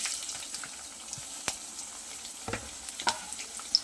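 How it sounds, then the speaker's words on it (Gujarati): Finely chopped onion hits oil with cumin and bay leaves, giving a soft, close sizzle with a few sharp spatters and stirring scrapes, fairly quiet and without talk. "હવે આપણે આમાં ઝીણી સમારેલી ડુંગળી ઉમેરી દઈશું."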